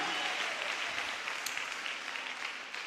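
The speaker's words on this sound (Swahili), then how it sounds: "Hayo makofi hayatoshi, piga tena Yesu asikie." Church congregation applauding during a sermon, a steady broad wash of clapping from many hands that holds at an even level throughout, with no clear talk over it.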